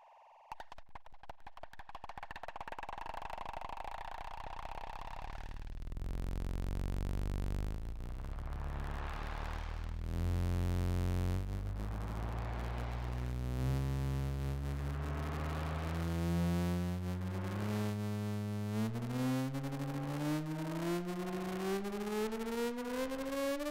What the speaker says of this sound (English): Sine waves through a digital reverb module.